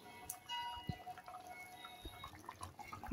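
Pieces of raw hilsa fish go into a thin, simmering Bengali chilli curry broth, with a few faint, soft plops, drips and small liquid splashes spread across a quiet moment.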